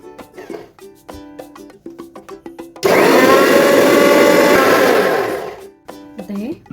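A mixer grinder whirs loudly for about three seconds, grinding roasted fenugreek, mustard seeds and urad dal with water into a paste. Before and after the run come clattering handling sounds and a voice talking.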